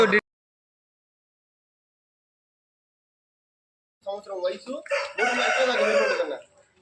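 After a long silence, an Aseel rooster crows loudly and close by, one drawn-out cock-a-doodle-doo preceded by a few short clucks.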